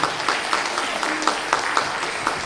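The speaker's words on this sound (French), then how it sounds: "Les applaudissements très forts" Applause at a Hmong New Year celebration in Irigny near Lyon, a dense steady wash of many hands clapping at moderate loudness, with faint voices mixed in.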